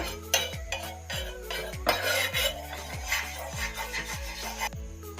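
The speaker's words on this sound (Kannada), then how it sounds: "ಈಗ ಇದಕ್ಕೆ 1 ಸ್ಪೂನು ತುಪ್ಪ ಹಾಕೋಣ. ಇದು ಸ್ಪೂನಿಂದ ಸ್ಪ್ರೆಡ್ ಮಾಡೋಣ ಅಂಚಿಗೆಲ್ಲ." Metal spoon scraping and clinking repeatedly against a hot tawa while spreading a spoonful of ghee, making a steady rhythmic scraping with sharp metallic clatter, close and clear, no talking.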